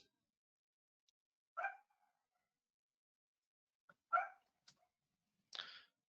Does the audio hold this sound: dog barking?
yes